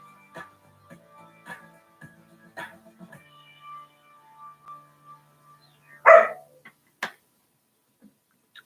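A dog barks a few sharp times at irregular intervals, one louder bark standing out, amid quiet room ticks and faint tones.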